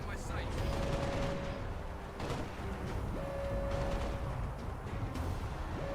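Gunfire in the video game Halo Spartan Assault, a steady wash of rapid shots and battle noise running throughout, with a sharp burst standing out partway through, over a constant game soundtrack.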